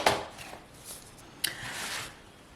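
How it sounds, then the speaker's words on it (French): Scissors snipping a piece of ribbon for a paper scrapbook album, two quiet close cuts about a second and a half apart, each a short crisp snip with faint rustle between. "je vais me couper un morceau de ruban. Je vais en couper un deuxième"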